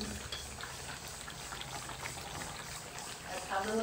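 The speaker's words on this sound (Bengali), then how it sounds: "আমি দেখো মাংস রান্না করতে বসিয়ে দিয়েছি" Meat cooking in a pot at home, a steady close bubbling and simmering hiss that fills the whole clip at an even level.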